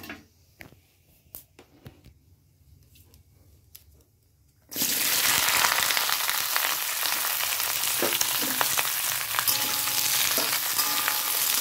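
Vegetables hitting hot oil with panch phoron and dried red chillies set off a loud, steady sizzle that starts abruptly about midway, after a few soft kitchen clatters, and keeps frying near and continuous to the end.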